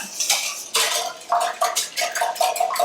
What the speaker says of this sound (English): Okay, whisk that up.